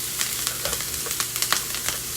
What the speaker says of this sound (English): If you don't hear that sizzle